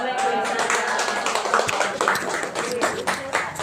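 Audience clapping after a teacher's presentation at an Indonesian school event, a steady patter of applause from a room of people with voices mixed in.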